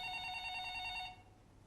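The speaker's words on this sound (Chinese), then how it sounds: "你听到她的电话响了" A telephone rings in an office setting, a steady electronic trill with bright repeating tones that stops abruptly about two-thirds through, leaving quiet room tone.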